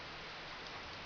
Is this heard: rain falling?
yes